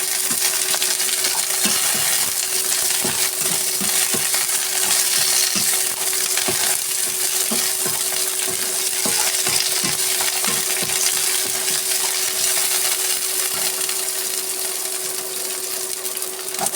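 Green chillies, garlic, shallots and curry leaves sauté in hot oil in a pan for a Kerala green chilli pickle, giving a steady close sizzle with scattered stirring scrapes and a faint constant hum throughout.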